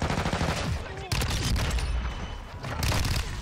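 Dense, continuous automatic gunfire from Call of Duty Modern Warfare II on the Shipment map, rapid bursts layered with booms and overlapping shots, loud and close throughout with a brief gap near the middle and a voice speaking over it.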